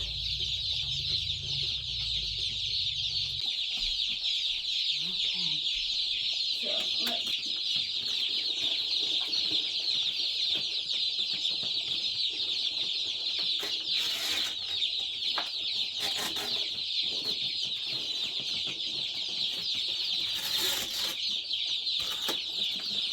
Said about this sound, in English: the meat bird chicks are here.